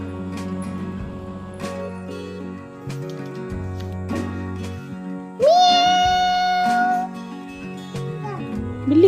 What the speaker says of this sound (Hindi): सोफा के नीचे बिल्ली है।